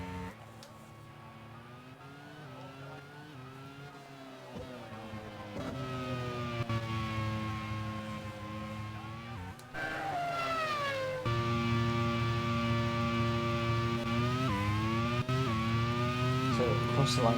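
Race cars at the Valencia Grand Prix roar across the line with high engine whines rising and falling through gear changes, several passing close and loud, one after another.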